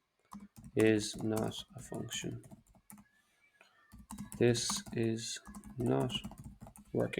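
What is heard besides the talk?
computer keyboard typing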